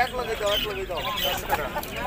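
Pet birds sold as bajigar birds chirp and call at a busy outdoor bird and pigeon market in Ashulia, with steady twittering layered over crowd noise and voices talking nearby.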